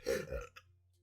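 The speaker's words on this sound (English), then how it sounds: "You'll end up burping softly and gently into the microphone." A single soft, brief burp lands close into a microphone, then trails into quiet room hiss.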